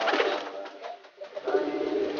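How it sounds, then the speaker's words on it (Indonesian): A silver pigeon coos nearby in a few soft, low, throaty phrases with a brief pause in the middle, alone and without voices. "Ini dia merpatinya teman-teman ya."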